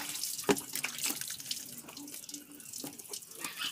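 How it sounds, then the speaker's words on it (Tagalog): Water runs steadily from a tap during a dog's bath, splashing and gurgling with a few sharp knocks and splashes mixed in, moderately close and fairly quiet. "Dahil first time pa lang ni Hunter maligo, medyo iwas pa siya sa tubig."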